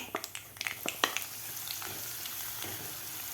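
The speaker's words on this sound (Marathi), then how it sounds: "मसालासुद्धा आपल्याला व्यवस्थित दोन मिनिट परतून घ्यायचा आहे" Masala being stir-fried in a pan after curry leaves, for a stuffed sponge gourd dish: a steady close sizzle with a quick run of sharp spatula scrapes and taps at the start, then continuous frying hiss alone.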